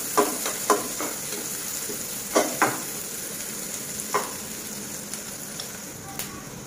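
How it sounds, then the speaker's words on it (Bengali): Minced garlic and onion fry in a pan for a simple pasta, a constant close hiss of oil broken by several distinct stirring scrapes and taps, a voice murmuring faintly in the background. "রসুন কুচি দিয়ে দিলাম। ভেতরে হালকা একটু ভেজে নিব"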